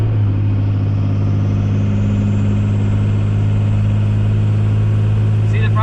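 A hotshot truck engine running steadily just after a cold start while towing a 15,000 pound trailer, a loud, close, continuous low rumble with constant drone throughout.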